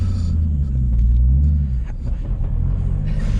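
A modified 2005 Nissan 350Z with a lightweight flywheel revs its engine up close, a deep loud rumble that rises and falls in quick throttle blips, no voices over it.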